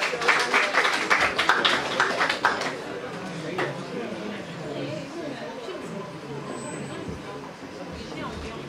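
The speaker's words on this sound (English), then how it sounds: "A round of applause for Mr." An audience at the Mr Teen Nigeria 2021 pageant claps loudly for about three seconds. The applause then drops away into a background of murmuring chatter.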